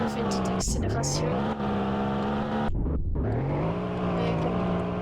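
Car engine in the Roblox game accelerating during a police roleplay, a steady loud engine drone whose pitch rises in steps with a brief dip partway, with talk over it.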